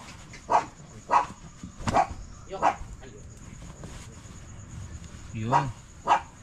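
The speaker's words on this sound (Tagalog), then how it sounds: "tumahol lang ang aking alaga" A pet dog barks in sharp single barks spaced about a second apart, close and loud, with a short pause in the middle and faint voices in the background.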